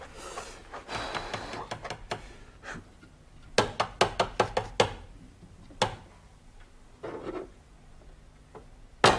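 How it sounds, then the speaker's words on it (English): Hard-boiled eggs being tapped and peeled: sharp knocks, including a quick run of close taps, mixed with rubbing and crackling of shell, in irregular bursts with pauses. "let's get on with peeling the hard-boiled eggs then, shall we?"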